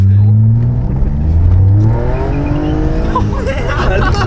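A Porsche from the film Taxi accelerates hard with tires squealing, its loud, close engine note climbing in pitch while people talk over it excitedly.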